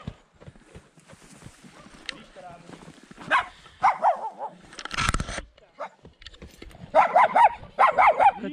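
A dog barks in short bursts near the end, a few sharp yelps after scattered talk and movement sounds, at a farm with a stallion and cattle.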